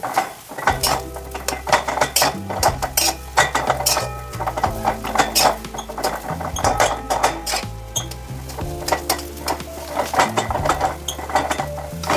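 A spatula stirring and frying spiced potato filling for aloo paratha in a pan, loud repeated metallic scrapes and knocks in a busy rhythm over a faint sizzle, close up.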